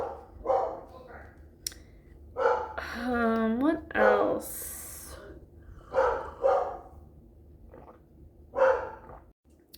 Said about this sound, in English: My dog was like barking.